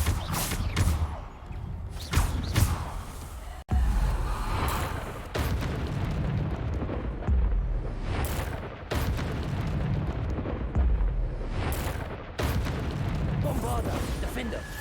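Repeated Bombarda blasting spells in Hogwarts Legacy combat, heavy booming explosions with rumbling debris recurring every second or two, mixed with spell effects and game noise throughout.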